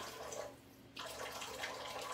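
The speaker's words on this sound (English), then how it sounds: "I'm just gonna turn on the water very, very low so I'm sure that I only get a splash" A kitchen water tap is turned on very low, giving a soft, steady hiss of thin running water that quiets briefly and then returns stronger and continues to the end, close and alone with no talking.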